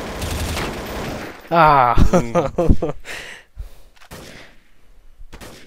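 Gunfire in Counter-Strike: Source during a hostage round, a dense burst of rapid shots at the start followed by sparser single shots, with players talking and shouting over it.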